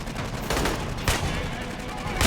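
Enemy gunfire in the Aliens: Colonial Marines video game, with dense rapid shots crackling loudly in overlapping bursts across a couple of seconds.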